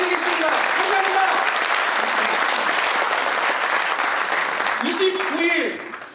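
A large audience at a formal launch ceremony for a citizens' committee bursts into sustained, dense applause that fills the hall and tapers off at the end, with voices mixed in.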